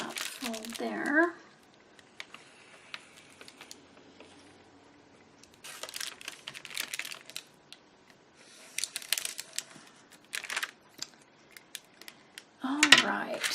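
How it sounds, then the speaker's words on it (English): Scissors cut paper along a fold, giving soft snipping and crinkling bursts separated by quiet pauses, with light handling rustles and some talking. "Just cut it right along that fold there."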